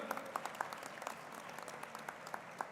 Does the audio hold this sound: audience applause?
yes